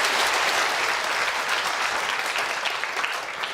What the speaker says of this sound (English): But in the meantime, big round of applause for Abel.